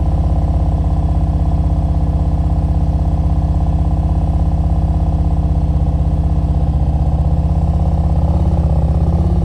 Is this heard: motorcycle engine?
yes